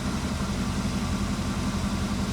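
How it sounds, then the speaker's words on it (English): A 1968 Chevrolet Camaro SS with a 396 V8, 4-barrel carburetor and dual exhaust idles steadily and smoothly with a deep low rumble and even vibration, continuous and close, no voices. "It starts right up immediately and idles so smooth and so quiet."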